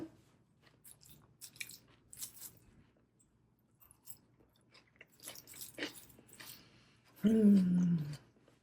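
Crisp crunching bites of a crunchy salad, irregular and close, with quiet pauses between and a brief hum near the end.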